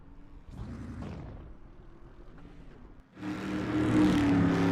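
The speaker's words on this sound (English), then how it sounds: "And you can hear the cars on the track." Race cars run laps on the Bristol short track in the iRacing video game, engines whining faintly at first before a louder, sustained roar of several cars swells in near the end.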